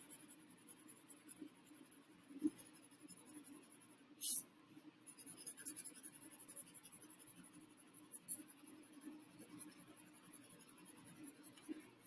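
Pencil shading on paper, laying in soft gray tones over a face drawing: a quiet, steady scratchy rasp of graphite strokes, faint and close, with a brief louder scrape partway through.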